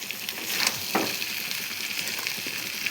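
Potatoes sizzle and fry in a pan with turmeric, a steady close crackle broken by scraping stirs of a spatula.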